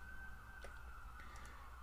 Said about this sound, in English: living on a busy street corner means lots of sirens, so I'm going to pause for a second